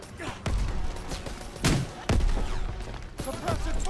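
Call of Duty: WWII gunfire, several loud separate shots and thuds over a busy battle din with shouting voices, close and irregular.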